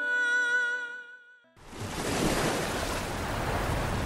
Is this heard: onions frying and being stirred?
no